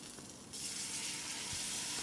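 Two ground tomatoes hit frying ginger and garlic for tomato rice, and a quiet hiss suddenly surges into a loud, continuous sizzle that holds steady.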